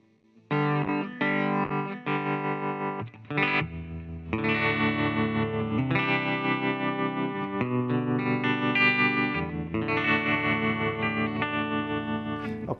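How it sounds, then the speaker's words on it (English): Electric guitar chords through a Fender Mustang Micro Plus ring out with a pulsing, wavering vintage tremolo effect, strummed in several bursts with short gaps, loud and alone. "it'll do a vintage tremolo"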